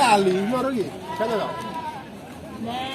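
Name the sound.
goats and sheep bleating at a livestock market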